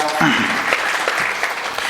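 Audience applause at a religious discourse gathering welcoming village women who made chapatis, a dense steady clapping crowd at constant loudness with voices talking faintly beneath it.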